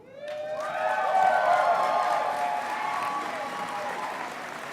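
Graduates applaud at the Fort Lewis College spring commencement, as a crowd of clapping builds quickly, holds strong, then slowly tapers, with sustained musical tones ringing beneath it.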